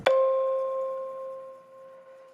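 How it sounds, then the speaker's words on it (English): A single struck tone rings out with a bright, high shimmering reverb tail that slowly fades over about two seconds. "it has that like top octave sheen kind of reverb sound to it"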